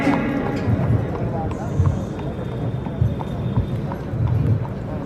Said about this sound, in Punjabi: ਬਾਈ ਜੀ ਦੇਵ ਰੂਪ ਘੋੜਾ ਬਾਹਰ ਲੈ ਜਿਓ